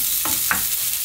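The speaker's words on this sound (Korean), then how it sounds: "살짝만 볶으면 됩니다." Seasoned vegetables stir-fried in a pan over low heat, with two soft scraping stirs about a quarter second apart over a quiet, steady sizzle.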